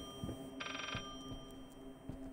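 A telephone in the horror game Layers of Fear gives a single short electronic ring burst over low, murmuring game ambience and footstep thuds.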